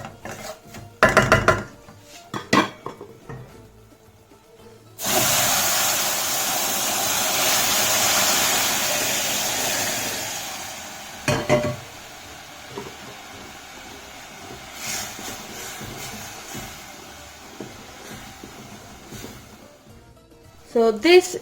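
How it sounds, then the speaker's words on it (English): Sugar syrup is poured into halwa cooking in a pot on low heat, bringing a sudden rushing hiss that holds for several seconds and then fades into quieter bubbling, with scattered knocks and clatter around it. "And I'm going to now add the sugar syrup."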